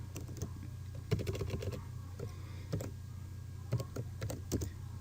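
Typing on a computer keyboard, with irregular bursts of light, close key clicks over a steady low hum.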